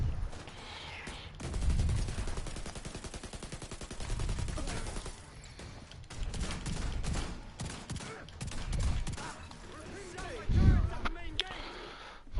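Gunfire from the video game The Division 2, with bursts of shots during a fight against a veteran grenadier, heard in the mix under steady talk from several players.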